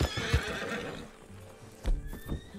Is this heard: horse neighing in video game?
yes